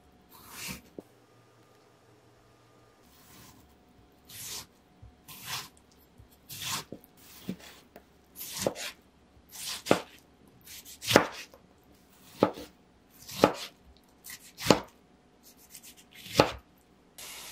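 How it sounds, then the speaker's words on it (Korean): Knife chopping three tomatoes into small pieces on a cutting board, about a dozen crisp, evenly spaced cuts that start sparse and settle into a steady rhythm, close and clear in a quiet kitchen, with no talking. "토마토 3개는 작은 크기로 써세요."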